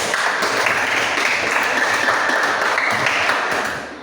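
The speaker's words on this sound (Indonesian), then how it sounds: "Oke, kita berikan aplaus" A classroom of students applauds in a dense, steady burst of clapping that keeps an even level for about four seconds and then fades out at the end.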